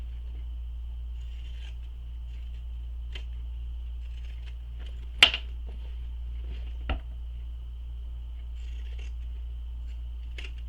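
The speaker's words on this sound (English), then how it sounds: "Once you have this seam sewn, you can go ahead and trim it down. I like to use some pinking shears." Pinking shears trim a sewn seam on a shoulder bag: two sharp, brief snips a couple of seconds apart, close by, over a steady low hum in an otherwise quiet room.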